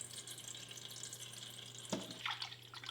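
Rhubarb pulp strained through a nut bag makes a quiet watery trickle and splash that swells near the end, faint and close over a low steady hum.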